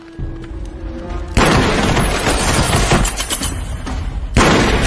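Gunfight between an old man and two thugs in a film, with dense booming shots and thuds that begin abruptly and continue loudly and steadily, followed by a second sharp surge of gunfire near the end.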